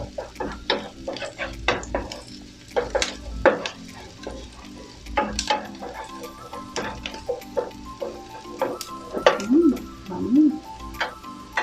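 Garlic sautéing in a pan until golden brown, with a soft sizzle under frequent clicks and scrapes of a utensil stirring against the pan; a voice briefly hums or speaks near the end.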